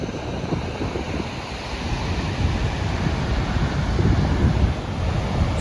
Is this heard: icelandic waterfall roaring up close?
yes